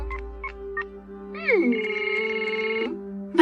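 A phone ringing during a call in a Doraemon cartoon: a warbling electronic ringtone rises in, then holds as steady tones for over a second, with brief speech-like sounds before it.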